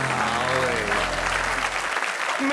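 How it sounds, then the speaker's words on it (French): A studio audience applauds in a steady wash of clapping that fades out near the end, with voices audible underneath. "Merci à tout le public de m'applaudir."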